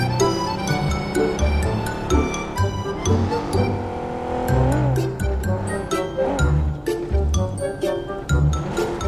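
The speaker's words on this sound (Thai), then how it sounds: "ไป let's go ขี่รถกันครับผม" A vehicle driven in the mobile game PUBG Mobile, with a loud, constantly shifting engine drone, repeated gear-like pitch changes, and sharp clicks and clinks from the game over the engine.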